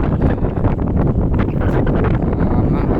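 Steady, heavy wind rushes across the microphone, a constant low roaring buffet with no pauses.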